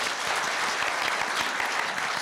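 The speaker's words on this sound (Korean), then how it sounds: "박수 한번 크게 보내주시기 바랍니다." An audience applauds in a hall at Korea University's campus newspaper 70th anniversary ceremony, with dense, steady clapping from many hands throughout and no gaps.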